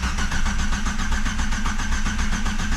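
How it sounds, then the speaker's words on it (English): A Jeep XJ engine cranking over to prime oil pressure gives a loud, steady, rhythmic whirring chug that runs without a break and never fires into an idle. "let's go prime this motor, get some oil pressure."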